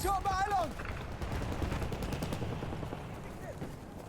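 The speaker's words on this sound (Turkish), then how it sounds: "Baya bir baskı ateşi yedik." Gunfire in a Battlefield 1 match, dense crackling bursts of shots running throughout under a loud mix, with a brief whistling tone at the start.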